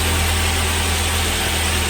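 A car engine running steadily with a loud, constant idle hum and vibration, the setup using a 12V battery feeding a power inverter, with no breaks and no voices.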